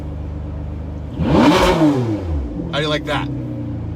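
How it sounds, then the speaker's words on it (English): A car engine revs up hard, building into a loud roar that then falls away, and a short second burst follows. Someone speaks over the steady idle. "You want to hear the car? Listen to this."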